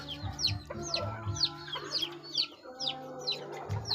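Several chickens, grown chicks among them, cluck and squawk in quick overlapping bursts close by, with short sharp calls repeating throughout over low background rumble.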